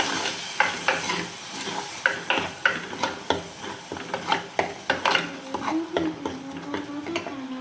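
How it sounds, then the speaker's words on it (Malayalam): Ground coconut paste mixed into a simmering curry pan, close rhythmic scraping and knocking of a spoon against the pan over a constant bubbling sizzle, without any talking. "ഇനി നമ്മളിവിടെ അരച്ച് വെച്ചിട്ടുള്ള അരപ്പില്ലേ അത് ചേർത്ത് കൊടുക്കണം ഇനി എല്ലാം കൂടി ഒന്ന് മിക്സ് ചെയ്യാം"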